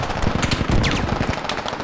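Rapid automatic machine gun fire in the infantry shooter game Squad, dense bursts of close, loud shots rattling continuously without pause.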